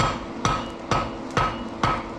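A blacksmith's hammer strikes hot steel on an anvil while forging a fire poker, four sharp ringing blows at a steady, unhurried rhythm, close and clear with no talking.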